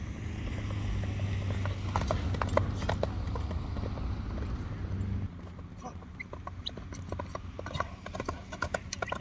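A horse ridden in at a Kyrgyz horse-training session, its hooves clopping steadily on the ground nearby, with faint bird clucks and some background noise, softer in the latter half.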